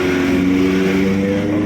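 A Bajaj NS160 fuel-injected motorcycle engine runs just after starting, a loud steady close-up hum with a faint rise in revs.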